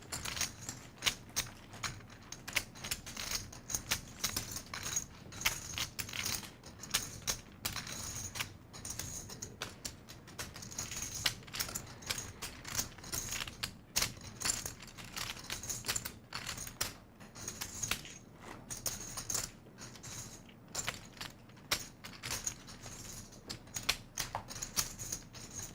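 Poker chips are riffled and clacked on a table at a tournament final table, giving a dense, continuous run of quick plastic clicks that stays close and steady for the whole stretch, with no talk.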